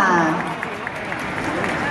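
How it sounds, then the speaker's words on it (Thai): Welcoming applause from a crowd at a mini concert during a mini motor show in a shopping mall, a soft continuous patter of clapping heard at a distance, fading slightly, with a brief voice at the start. "ขอเสียงปรบมือต้อนรับด้วยค่ะ"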